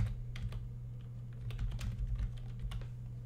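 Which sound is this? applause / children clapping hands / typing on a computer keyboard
typing on a computer keyboard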